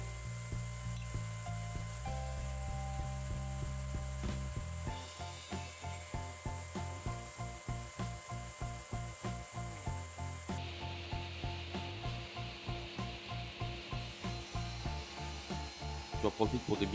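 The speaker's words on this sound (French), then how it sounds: "Ici, je vais découper les équerres à 45 qui vont me servir pour le support de la fleureuse." Wooden brackets are cut at 45 degrees for a DIY MDF mortiser, with a steady run of rhythmic sawing strokes that are moderately loud and close, and no talking.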